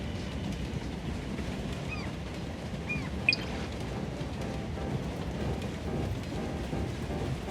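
Steady rumbling of a train ride in the video game Neverness to Everness, with a constant low roar of wheels and carriage noise, a faint high chime, and a brief click, with no talking.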